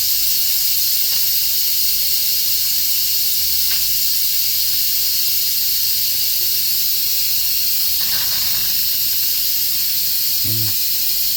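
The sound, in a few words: Instant Pot releasing steam pressure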